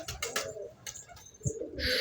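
Soft, throaty coos of homing pigeons repeat close by in a coop, with faint shuffling and fluttering between calls.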